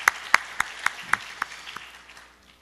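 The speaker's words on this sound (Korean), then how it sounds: "우리 할렐루야 성가대에 다시 한번 큰 박수를 부탁드리겠습니다" Church congregation applauding the choir after a sung performance: a handful of loud, evenly spaced claps, close and distinct, that fade into a scattered patter and die away.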